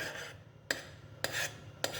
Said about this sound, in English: I'm still stirring my medium